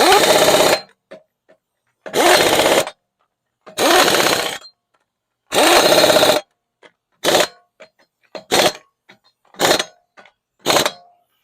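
An air impact wrench refits a car tire in a workshop in rapid loud bursts: four longer rattling runs, then four shorter ones, each split by silent pauses. No one talks.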